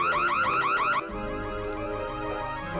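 A Sims 1 burglar alarm wails in fast warbling cycles for about a second, then cuts off abruptly, leaving quieter game background sounds.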